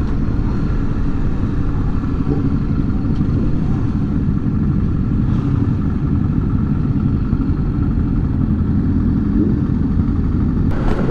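A Honda XRE300 motorcycle rides out along Avenida Recife in Recife, Brazil, with a steady, loud, close engine rumble and wind noise throughout and no pauses.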